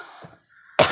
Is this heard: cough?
yes